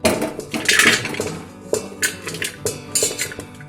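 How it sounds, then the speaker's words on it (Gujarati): Chopped vegetables including ivy gourd, mango, chillies and carrots are tipped into a large metal cooking pot for Punjabi pickle, giving a string of close, sharp clanks and rattling clatters in short bursts. "હવે એક મોટું તપેલું લઈશું, તેમાં આપણે બધા શાકભાજી નાખીશું"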